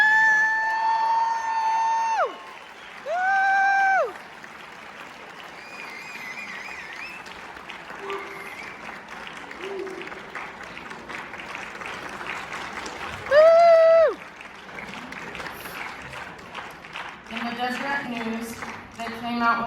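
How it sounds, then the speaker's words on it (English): A school assembly audience claps for its state champion team, with sustained crowd applause and whoops. Loud cheering screams rise in bursts over the clapping. "You can clap now for that."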